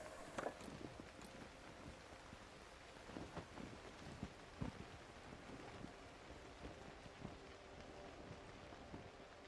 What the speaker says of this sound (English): Actually, I don't like the sound of that rain.